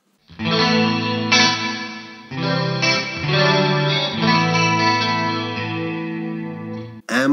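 Electric guitar run through the reverb effect of a Poly Effects Beebo pedal, ringing chords that sustain and trail off into a lingering wash, loud and close, ending with a sharp cutoff, no talking.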